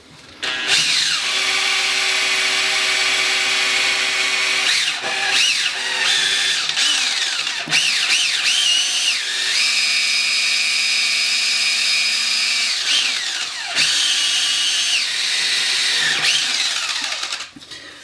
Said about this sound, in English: New drill bit. This one's a little bit larger diameter.